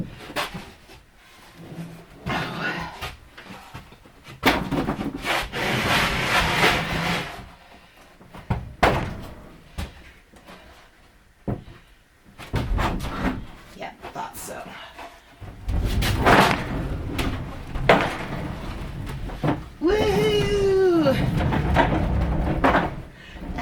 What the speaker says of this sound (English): Now let's see if I can flip it over without rolling it onto myself.